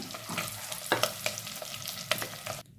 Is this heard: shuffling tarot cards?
no